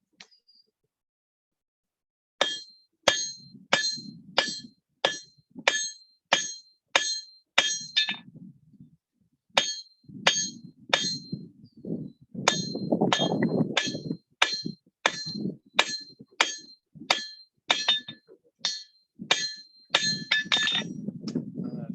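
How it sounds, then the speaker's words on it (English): A hammer strikes metal on an anvil in a blacksmithing hinge-forging session, making a long run of bright, ringing clangs in a steady rhythm with brief pauses and heavier thuds between some blows. "I only was hammering on this bit and it made it thinner and a little bit longer"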